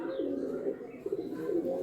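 A short-sized chatiyal pigeon cooing nearby, three drawn-out throaty coos in a row, clear and fairly loud with no talk over them.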